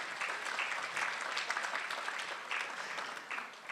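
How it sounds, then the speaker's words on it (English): An audience at a women's forum applauds council staff with steady, dense clapping from many hands that fills the room evenly for several seconds, fairly close and loud, with no speech over it. "So let's put a round of applause to all the council staff for they're here"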